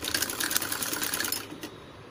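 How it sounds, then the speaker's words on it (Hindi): A sewing machine runs a long straight seam on the sleeve pieces of an umbrella dress made from a saree, a steady rapid whir that slows and stops near the end. "ये जो हमारी बाजू है, तो इसकी हम लंबी सिलाई लगा लेते हैं।"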